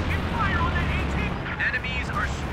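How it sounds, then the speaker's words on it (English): An artillery barrage in Company of Heroes 2, a 2v2 match of US and German forces, rumbling with repeated booms and explosions under an excited caster's continuous commentary. "Pervitin starts a barrage from inside the danger zone"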